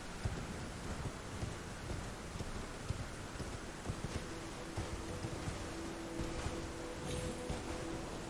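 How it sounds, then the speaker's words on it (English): Steady rain pours in an Elden Ring landscape, a dense constant hiss with faint low rumbles of thunder underneath and soft thuds scattered through. "It's a bit rainy."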